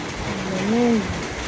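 Steady rain hisses during Storm Carina in Antipolo City, a constant wash of close downpour, with a brief voice heard faintly beneath it.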